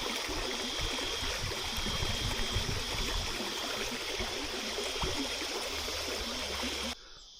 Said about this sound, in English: A little bit of running water.